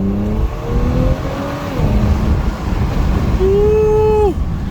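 Audi S5 Sportback with an 034 aftermarket intake revving hard, rising engine tones climbing and falling in two pulls, close and loud over steady wind buffeting on a windy day.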